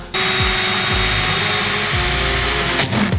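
A power drill with a 3/8-inch bit bores a hole through a CRF450RL accessory panel, a steady loud whine broken by periodic low thuds as the bit grabs, with a sharp jolt near the end.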